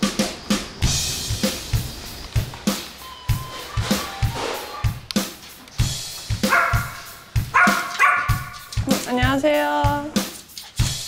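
A small dog yips and barks in a home, short sharp bursts repeating in an uneven rhythm, ending in a higher whining run of barks, with people talking nearby between them.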